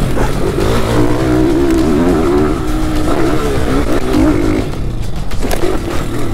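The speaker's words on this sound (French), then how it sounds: "Moteur Fidi 125. Quand elle monte dans les tours cette moto c'est vraiment impressionnant." A 125 cc Fidi motorcycle engine revs high, a loud buzzing whine climbing and wavering through the revs, close up and continuous with no talk.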